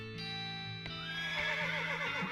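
A horse neighs in the Western comedy video game West of Loathing, a clear whinny over a steady game-music background, close and moderately loud.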